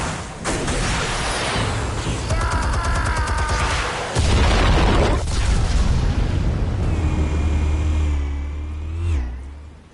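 Explosives go off in the Batman: The Telltale Series video game. A heavy boom arrives with a deep low rumble and roar that swells midway, and sweeping tonal effects and debris noise follow.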